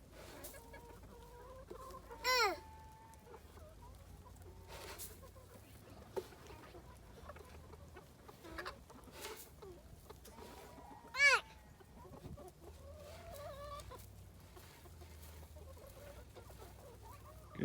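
Chickens cluck and squawk at a farm, a few sharp calls standing out over soft ongoing clucking, fairly quiet and close, with faint rustling.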